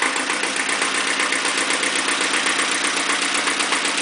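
An Iseki tractor engine idles at around 900 RPM in a steady, even mechanical chug with a rapid pulsing rhythm, close and continuous throughout.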